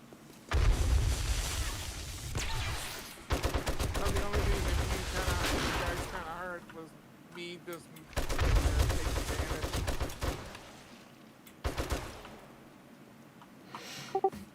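Loud bursts of rapid gunfire in 7 Days to Die as a player shoots swarming zombies during a base defense, firing in repeated volleys with short pauses between, with game noise and faint voices mixed in.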